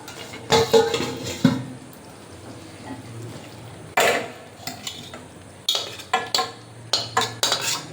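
Metal pot and utensils clank and scrape as a cooking pot of shukto, a Bengali vegetable dish, is handled and lifted off the stove in a village kitchen; sharp intermittent knocks and rattles, close and fairly loud.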